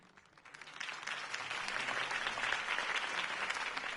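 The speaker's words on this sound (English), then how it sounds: "could have heard that applause" Crowd applause rises in a Telltale Batman game scene following a campaign rally speech, building from a quiet start into steady, dense clapping that holds loud for several seconds with no one speaking.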